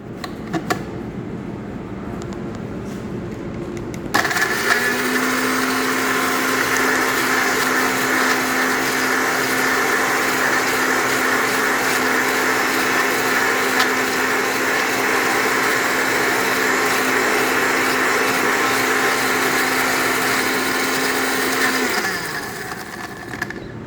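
An electric blender whirs steadily as it blends a fruit sample with 60 ml of oxalic acid for vitamin C analysis. It starts abruptly, holds a loud, even drone for about eighteen seconds, then winds down and stops.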